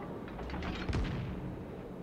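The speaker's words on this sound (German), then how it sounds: "Oh, und da kommen wahrscheinlich Schüsse auf uns." Naval gunfire in the World of Warships video game, a dense rumbling barrage with a sharper boom near the middle over steady low battle noise.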